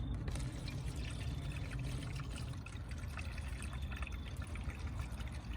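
Distilled water poured steadily from a gallon jug into the radiator of a 1999 Mercedes E55 AMG W210 during a coolant flush, a continuous close splashing gurgle with no talk.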